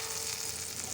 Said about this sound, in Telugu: ఆనియన్స్ వేగిపోయండి